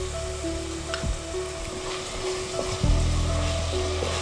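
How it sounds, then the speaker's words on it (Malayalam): Tomatoes sauté in hot oil with ginger, garlic and green chilli for a potato curry, giving a steady close sizzle broken by a couple of sharp knocks of stirring. "നമുക്കതും കൂടി ഇതിനകത്തേക്ക് ചേർത്ത് കൊടുത്ത് നന്നായിട്ടൊന്ന് വഴറ്റിയെടുക്കാം"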